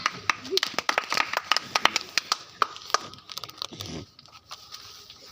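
Sharp hand claps ring out in an irregular burst of a dozen or so, near and crisp, during a children's reflex game, with children's voices and an adult talking underneath.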